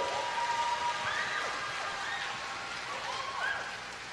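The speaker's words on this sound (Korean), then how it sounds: "감사의 박수 한번 부탁드리겠습니다" An outdoor crowd at a marching festival gives a dense, steady wash of applause, broad and continuous with faint voices mixed in.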